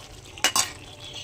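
An onion and tomato tadka frying in a pan being stirred, with two quick, close scraping strokes of a utensil over a faint sizzling background.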